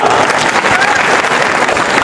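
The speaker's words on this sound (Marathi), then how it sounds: "त्यांच्यासाठी जोरदार टाळ्या वाजवा" A crowd at a political speech event in Ahilyanagar applauds loudly and steadily in a dense wash of clapping.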